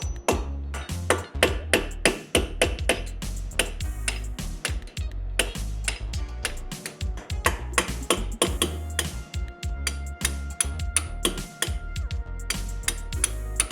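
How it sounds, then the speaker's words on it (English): Sharp metallic hammer strikes on a punch knocking brake pad pins out of a C7 Z51 Corvette caliper, dense and uneven, ringing taps repeating close by throughout with no talk. "take a hammer and a punch and carefully knock these pins out without scratching the"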